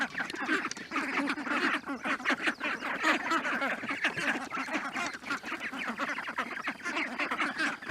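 A flock of geese honks and cackles nonstop, loud and close, with overlapping calls.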